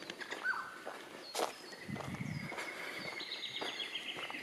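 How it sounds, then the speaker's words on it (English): Scattered bird calls and chirps ring out in the forest of Bungawalbyn National Park, some thin and high, with faint rustling and steps in between. "You can probably hear more than see any bird life."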